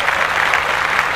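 Steady, dense clapping from a few people in a podcast studio, close and continuous with no talking over it.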